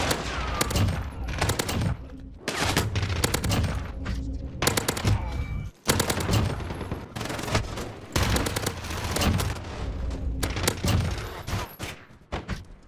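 Rapid automatic gunfire from a pistol-style weapon in the shooter game Warzone: loud, close bursts of fast shots broken by brief pauses, with thumps mixed in.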